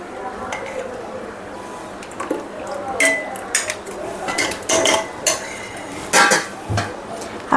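Tea being strained into cups in a home kitchen, with clinking metal and ceramic, liquid pouring and dish handling in irregular bursts while someone talks over it.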